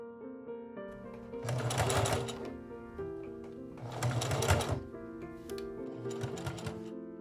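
A sewing machine stitches binding onto an 1870s-style cotton sateen corset in three loud, rapid bursts of close mechanical whirring with short pauses between them, over a soft musical background.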